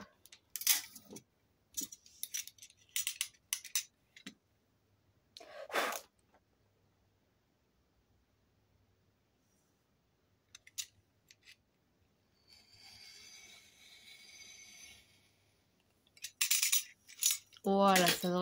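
Paper envelopes being cut with scissors for a handmade mini album: a few short, close snips and crisp paper rustles separated by quiet gaps, with a soft rustling stretch and a brief voice near the end.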